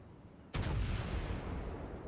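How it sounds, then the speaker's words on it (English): Battleship Tirpitz firing its main guns in the naval game World of Warships: one sudden booming salvo that rolls on with a long, loud rumbling tail, heard alone without talk. "The Tirpitz takes his shot"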